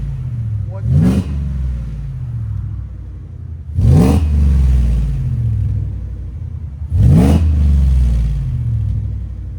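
A supercharged Ford F-150 with a 5.0L V8 making 850+ hp, fitted with headers and a Black Widow Race Venom exhaust, idles with a deep rumble, then snaps into three sharp, loud revs spaced a few seconds apart.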